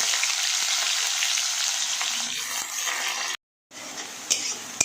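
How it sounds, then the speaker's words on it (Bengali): Onions fry in hot oil left over from frying potatoes, giving a continuous bright sizzle with occasional stirring. The sound cuts out briefly, then returns with a couple of light utensil clinks. "ওই তেলেই পেঁয়াজগুলো ভেজে নেব।"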